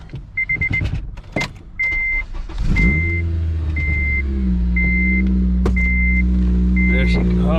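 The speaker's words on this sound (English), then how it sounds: "Yeah, motor sounds good. Sounds healthy." A Honda K20 engine cranks and catches on its first start, then settles into a steady, loud idle that drones on after a few sharp mechanical clicks and beeps, with a voice talking over the start.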